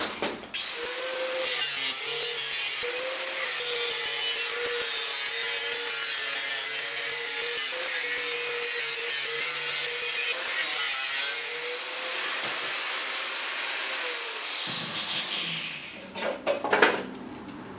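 Power saw cutting through a one-piece steel motorcycle fender on a fighter build, a steady loud whining cut running continuously for about fifteen seconds before stopping with a few clattering knocks.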